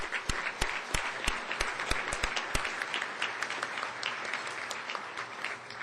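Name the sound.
audience applause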